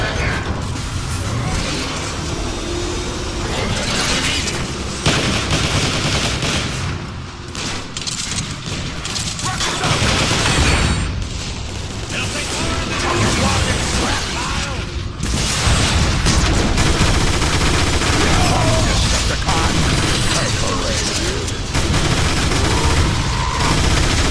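Heavy sustained gunfire and mechanical clanks fill a battle in Transformers: War for Cybertron, dense rapid fusillades layered with booms and metallic ratcheting, loud and continuous throughout.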